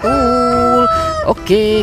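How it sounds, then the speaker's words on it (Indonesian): A rooster crows loudly and close by in a long, clear cock-a-doodle-doo with a rising and falling call, followed by a brief second crow, while a voice speaks faintly. "Yang ini ada ayam berkokok."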